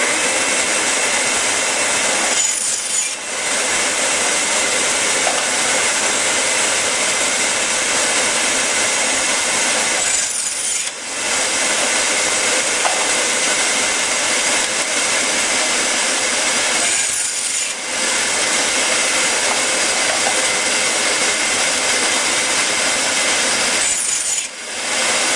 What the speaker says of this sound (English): I get a hold of the casing with this hand, turn on the motor, and very carefully, without cutting my fingers,